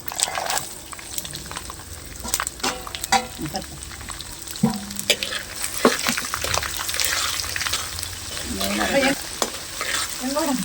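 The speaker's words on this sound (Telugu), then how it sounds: "నూట యాభై గ్రాములు ఎల్లుల్లిపాయలు తాలింపులు వేస్తాం" Garlic sizzles and crackles in hot oil as a tempering for a broad bean and mango pickle, while a utensil scrapes and stirs the pan in irregular bursts, close and busy throughout.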